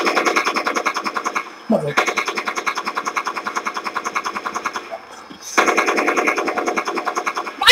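Rapid automatic gunfire from online multiplayer play in the video game GRAW 2, with sustained bursts repeating at a steady rate, broken by short pauses, and someone speaking over them.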